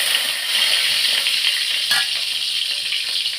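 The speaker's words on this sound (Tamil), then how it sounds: "கீரையை நான் வதக்கிக்கிடுறேன்." Mixed greens and sambar onions sautéing in hot oil give a steady, loud sizzle with soft stirring scrapes, close and continuous, one brief burst of louder crackle midway, no talking.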